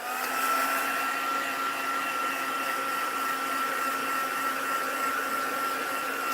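A craft heat tool dries stamped ink before embossing, giving off a loud, even blowing hum with a faint high whine that holds steady for several seconds, with no voices.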